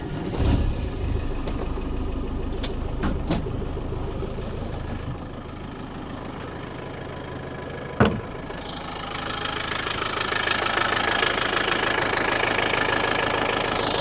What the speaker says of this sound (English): As you can tell from the engine notes, anyone who knows a TDI will recognise that sound.